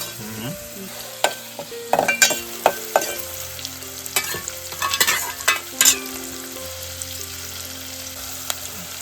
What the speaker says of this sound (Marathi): कांदा आणि लसूणची फोडणी